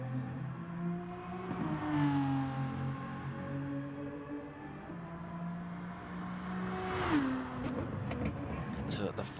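A race car engine in a sim racing game at Mount Panorama drones and revs through gear changes, with a rising pitch sweep as it powers out of a corner, under continuous commentary.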